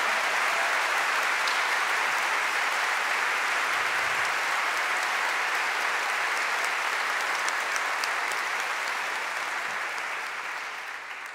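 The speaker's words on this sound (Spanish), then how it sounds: "Un aplauso para Norita, para Estela también" A concert audience delivers a long, steady round of clapping, loud and full, gradually fading toward the end, with no voices on top.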